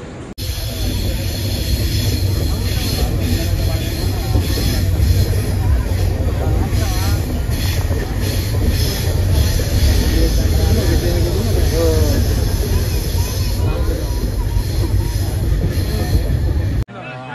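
A train on the Konkan Railway at Panvel station gives a steady, loud rumble of rolling carriages, with crowd noise and indistinct chatter mixed in throughout.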